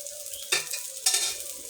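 Lentils added to fried chopped onion and garlic crackle with a close, bright sizzle that flares up twice with a stir, hissing steadily with no talking.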